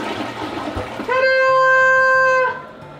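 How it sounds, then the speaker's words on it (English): Newly installed elongated toilet flushes for the first time in a farmhouse bathroom renovation, a strong rushing whoosh with rising refill tones that swells after a second and cuts off near the end, preceded by faint room noise. "All right, the very first toilet flush."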